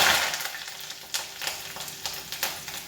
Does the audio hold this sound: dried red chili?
yes